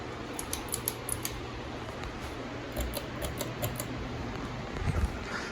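Steady whooshing hum of ceiling fans running on high, with a faint rhythmic ticking on top and an occasional soft knock; no talking.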